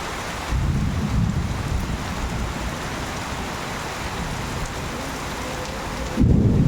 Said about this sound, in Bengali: এখন অলরেডি বৃষ্টি শুরু হয়ে গেছে